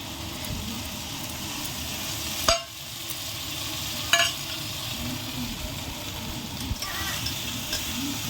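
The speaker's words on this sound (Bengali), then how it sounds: "এবার ভালো করে মিশিয়ে নেব মশলাটার সাথে দইটা" Yogurt being stirred into frying masala for an egg curry: continuous sizzle with scraping spoon strokes and a few sharp knocks against the pan, close and moderately loud, with no speech.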